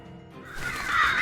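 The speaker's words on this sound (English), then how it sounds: "You hear the sound of crows cawing when Autumn pushes you." Crows caw in a short burst that builds louder toward the end, over a dark, noisy background with no talking.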